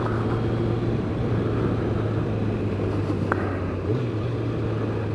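A Kawasaki ZZR 1100 motorcycle engine running, a steady, loud, close low rumble that holds an even idle throughout, with no voices.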